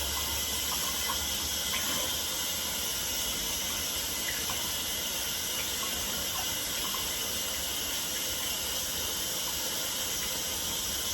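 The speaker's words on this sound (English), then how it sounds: "I'm gonna go rinse this really quickly" A kitchen tap runs steadily as lettuce leaves are rinsed under the stream, a constant close hiss of water that stays even for the whole stretch with no voices.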